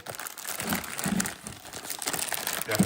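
Plastic packaging wrapped around a new Yamaha YFZ 450R clutch basket crinkles and rustles close by in irregular handled bursts, without talk.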